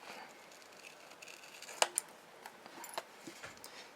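Scissors cut out a paper image for a decoupage card, giving faint, close snips and small clicks scattered over a quiet few seconds.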